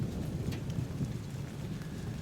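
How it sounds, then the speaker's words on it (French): Rain falls steadily outdoors during a thunderstorm, a dense rushing hiss over a low, rolling rumble of thunder, fairly loud and continuous with no voices. "Vous entendez l'orage ?"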